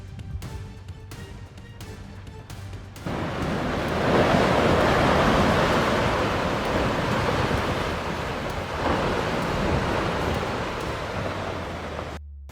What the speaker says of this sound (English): Waves surged across the surface as stunned onlookers held their breath.